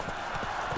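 Hooves of a horse in the Witcher Blood and Wine video game, a quick rhythmic clip-clop at moderate distance, brief and continuous.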